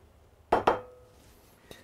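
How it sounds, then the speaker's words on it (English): Dry fettuccine pasta goes into a pot of boiling water for seafood fettuccine: two quick, close, sharp clinks against the pot, then one fainter tap after a short pause, with a quiet background. "I'm going to put my pasta in there."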